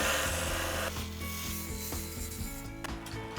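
A lathe tool makes a parting cut into a spinning wooden rolling pin blank, a close, continuous scraping rasp over the machine's steady hum, with no one talking.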